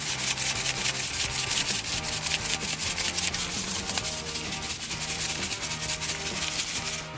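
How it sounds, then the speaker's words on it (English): Hands work dry barbecue rub into a rack of baby back ribs for smoking, a steady, close, continuous scrubbing and rubbing that stays loud throughout with no talking. "Once you got the back of your ribs rubbed, you're going to flip them over and do the same to the front side."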